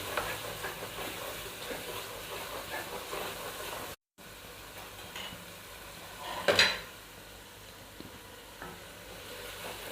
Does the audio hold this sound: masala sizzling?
yes